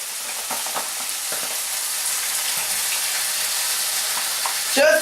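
Pieces browning in a hot pan with seafood, a loud, close, continuous sizzle and crackle with a few faint stirring scrapes and a brief louder clatter at the end.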